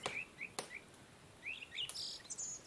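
Birds singing by a calm lake, several short clear chirps and whistled phrases scattered across a quiet background, soft and close, with a couple of sharp clicks.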